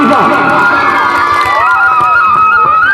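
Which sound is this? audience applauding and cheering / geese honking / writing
audience applauding and cheering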